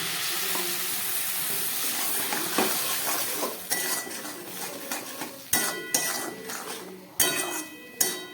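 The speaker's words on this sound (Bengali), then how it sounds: "একটু সামান্য একটু জল দিয়ে দিচ্ছি" Dal in a hot pan being worked with a metal utensil: steady sizzling under repeated sharp clinks and scrapes against the pan, growing busier and louder toward the end, with no talk.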